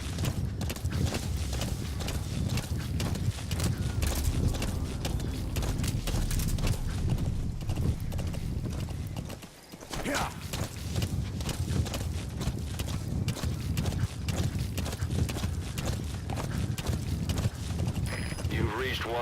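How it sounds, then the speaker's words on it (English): A horse in Metal Gear Solid V: The Phantom Pain, set in Afghanistan, clops along in a steady, continuous gait with faint snorts. Talking runs over it almost the whole time, and there is a brief pause near the middle. "Oh, a horse in the middle of Afghanistan."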